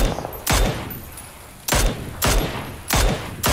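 Gunfire in the battle royale game PUBG: four loud, sharp shots crack out close by at irregular intervals, each with a short echoing tail, over quiet background noise.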